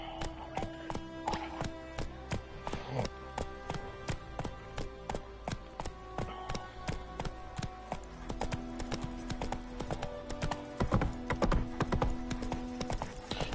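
A horse gallops in the video game Witcher 3, hooves clip-clopping in a quick steady rhythm close by, with faint ambient game sounds beneath and no speech.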